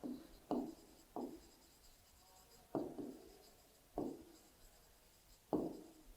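Chalk or pen strokes writing out a maths solution in a classroom lesson, six distinct scratchy bursts spaced about a second apart, close and fairly quiet with no talk over them.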